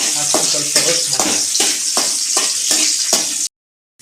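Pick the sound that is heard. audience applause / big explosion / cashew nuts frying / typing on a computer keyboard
cashew nuts frying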